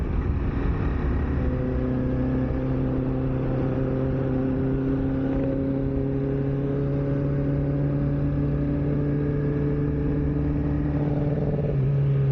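A motorbike engine drones steadily and fairly loudly throughout, holding an even, humming pitch with little variation and only a slight shift near the end, with no voices.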